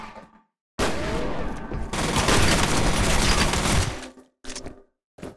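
Shotgun blasts rip through a firefight in the shooter F.E.A.R., a loud, close burst of overlapping gunfire lasting a few seconds after a silent gap, then a couple of short, sharp reports.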